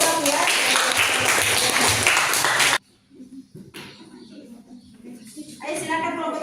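A classroom of students applauds a presentation group, steady clapping that cuts off abruptly, followed by quieter room sounds and someone speaking.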